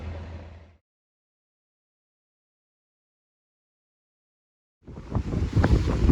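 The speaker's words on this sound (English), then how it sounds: "hopefully the audio isn't just getting totally whipped by this wind" Strong wind buffets the microphone on a Westsail 32 sailboat sailing downwind: a rough roaring gust at the start, a dead silent gap, then heavy rumbling wind noise building loudly again near the end.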